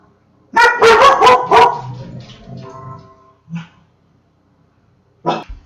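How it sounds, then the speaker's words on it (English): A dog barks several times in a quick loud burst nearby, then trails off into quieter whines, followed by a couple of isolated short yips. "That was my dog."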